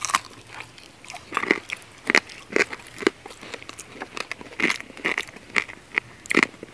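Close, crisp biting and crunchy chewing on fried spicy pork pinakupsan, repeated bites crackling in an irregular rhythm with brief pauses, eaten outdoors with no talking.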